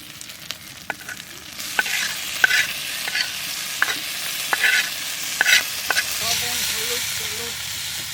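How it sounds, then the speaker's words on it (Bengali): Coriander leaves and tomato dropped into egg curry masala of ginger-garlic, cumin, coriander and chilli paste frying in oil, with a steady close sizzle broken by repeated sharp spatula scrapes and stirring knocks, and a faint voice near the end. "ধনে পাতা আর টমেটো দিয়ে দিচ্ছি।"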